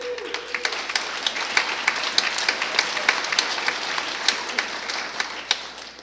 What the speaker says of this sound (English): well, thanks for applauding